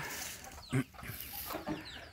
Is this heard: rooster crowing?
yes